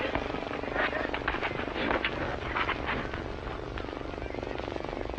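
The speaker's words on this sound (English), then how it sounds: "It's here, the plane." An arriving airplane's engine roars steadily and loudly, a broad continuous drone that fills the whole stretch without letting up.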